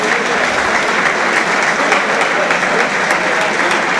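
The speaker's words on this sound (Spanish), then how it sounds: "El aplauso para un hombre que demuestra voluntad" A live boxing crowd applauds steadily at an amateur bout, dense sustained clapping filling the hall without a break from start to finish.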